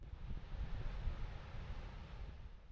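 Strong wind buffeting the microphone on a wide, nearly empty beach facing west onto the Atlantic, a steady low roar with gusty swells throughout and likely surf mixed in, no voices.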